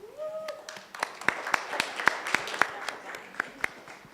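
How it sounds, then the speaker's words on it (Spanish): An audience at a student humanities colloquium panel applauds, with scattered hand claps building into steady clapping from a small crowd, close and fairly loud, with a brief voice at the start. "Pido un fuerte aplauso para ella"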